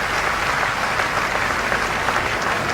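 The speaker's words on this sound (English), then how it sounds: "The crowd are roaring." A large outdoor crowd at a Jubilee parade roars and cheers as the Red Arrows jets fly past, a dense, continuous wash of noise with steady loudness throughout.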